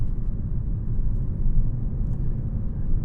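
A 2022 Nissan Rogue Sport with a CVT cruising along the road, a steady low engine and road rumble filling the cabin throughout, with no voices.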